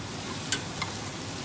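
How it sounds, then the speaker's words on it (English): Garlic toasting in a hot pan gives a soft, steady sizzle with a couple of faint clicks, fairly quiet and with no voices. "you can see that the garlic is getting toasted a little bit right there"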